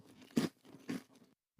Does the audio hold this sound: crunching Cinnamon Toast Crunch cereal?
yes